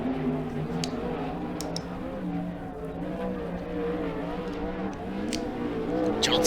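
A 410 sprint car on a dirt oval runs a qualifying lap, its engine a steady loud drone throughout with a public-address voice talking over it.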